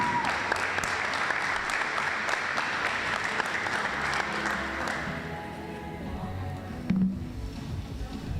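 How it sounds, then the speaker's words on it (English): A basketball championship crowd applauds the all-tournament women's team, a dense wash of clapping from many hands for about five seconds that fades into a quieter murmur with a few scattered claps. "Let's have another round of applause for these fine student athletes, your 2021 All-ODAC Tournament Women's Basketball Team."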